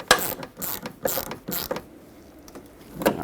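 Ratchet and socket tightening a headlight bolt on a 2011-2016 Ford F-350 Super Duty, giving several short bursts of close mechanical clicking spread through the clip with quiet gaps between them.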